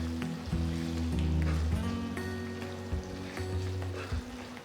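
Bottle gourd dal with slit green chillies is stirred in a pan, a steady close bubbling sizzle with soft scraping strokes and low simmering tones running throughout, no voices.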